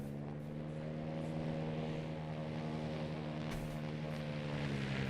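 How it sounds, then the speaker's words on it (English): A propeller airplane drones steadily in a video game, a loud continuous engine hum with stable harmonic tones that swells slightly as it approaches, heard alone without talk. "I hear the plane a-comin'. It's coming around the bend."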